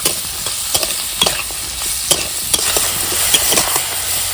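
Winter vegetables fry in a pan with a loud, continuous sizzle while a utensil stirs them, scraping and clattering in irregular bursts close up.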